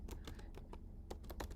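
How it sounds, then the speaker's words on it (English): Quick, light clicks of fingers typing a text prompt on a computer keyboard, an irregular patter of keystrokes heard faintly at close range without speech. "So I'm typing"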